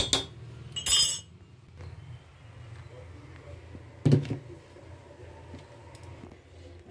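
Glass clinking while drinking water is fetched at home: two sharp, clear clinks, the first near the start and the second a few seconds later, over a quiet room hum.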